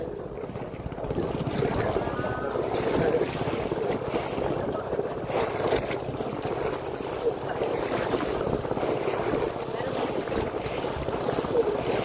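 Strong waves at sea from aboard a fishing boat: a constant loud roar of water and buffeting wind against the microphone.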